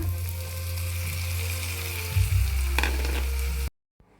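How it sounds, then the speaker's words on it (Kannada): Marinated mushrooms fry in a pan with tomato and onion over medium heat, a steady close sizzle with a brief stirring scrape midway before the sound cuts off abruptly near the end. "ಎರಡರಿಂದ ಮೂರು ನಿಮಿಷ ಮೀಡಿಯಮ್ ಉರಿಯಲ್ಲಿ ಇದೇ ಥರವಾಗಿ ಫ್ರೈ ಮಾಡ್ಕೋಬೇಕು"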